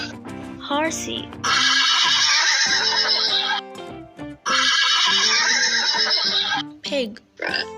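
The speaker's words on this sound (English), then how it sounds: "Horsey." A horse whinnies loudly in two long, shaky neighs, with snorts and brief breathy sounds before, between and after them, and no talk over it.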